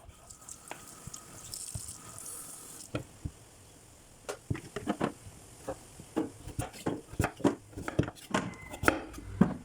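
A knife works through pieces of ayote squash in a kitchen, scattered soft chops and scrapes at first, then a steadier run of crisp cutting taps that grows louder and closer, with faint background noise and no talk.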